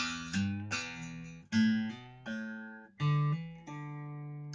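A guitar plays a slow descending pentatonic run of single notes, each ringing clearly with some unevenly timed, alone and fairly close.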